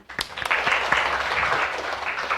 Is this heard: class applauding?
yes